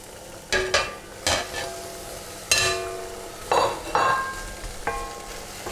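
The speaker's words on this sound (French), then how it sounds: "je vais remettre tout de suite mes morceaux de viande" Pieces of beef cheek go back into a hot cocotte, producing a series of sharp clattering knocks and bursts of sizzling, about eight distinct hits spaced irregularly over a low background of frying.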